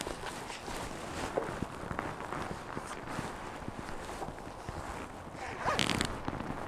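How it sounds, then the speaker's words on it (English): A zipper on a brown knee-high leather stiletto boot is pulled up in a long, rasping, close-up run, with a quicker burst near the end. "put my finger in here to pull the zip up"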